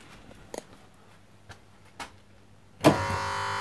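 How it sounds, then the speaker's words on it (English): A few faint clicks, then a sudden thump gives way to the steady electrical hum of a 22kW charging station's transformer that continues to the end. "Yes, you can hear the noise of the transformer."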